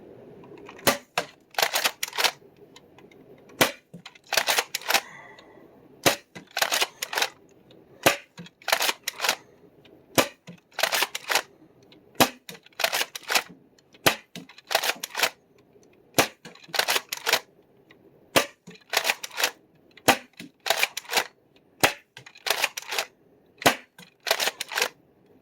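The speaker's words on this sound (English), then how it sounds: "first I'm going to fire off 15 worker darts with no scar barrel" Nerf Nexus Pro blaster shooting Worker darts without a barrel attachment: sharp, loud mechanical snaps in irregular clusters of two or three, repeated steadily over about twenty-five seconds, each crack short with little room noise between.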